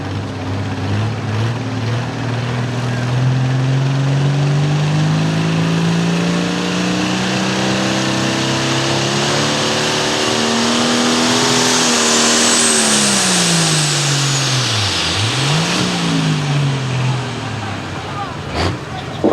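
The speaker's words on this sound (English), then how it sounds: "Nice solid run out of that tractor." Pulling tractor at a Selinsgrove tractor pull, its engine roaring loudly through a full run, pitch climbing steadily then dipping sharply and recovering near the end, with a high whining whistle rising over the sustained throaty drone.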